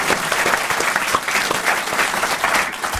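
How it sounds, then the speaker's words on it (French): Dense, steady applause from a festival audience fills the whole stretch, loud and close, a continuous wash of many hands clapping without pause. "on vous applaudit"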